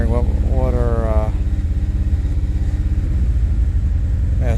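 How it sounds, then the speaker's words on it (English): A 2013 Cadillac ATS 2.0-litre turbo engine runs rough with a misfire, giving a loud, steady, uneven low chug throughout, with a brief rising tonal whine early on and no talking. "So it's definitely misfiring."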